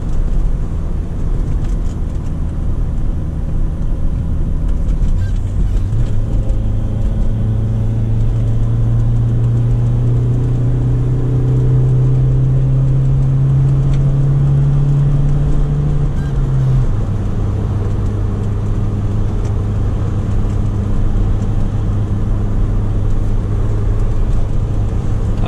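A 1995 Audi with a manual gearbox cruises in fifth gear at low revs, giving a steady, loud low engine drone that holds evenly throughout with no voices.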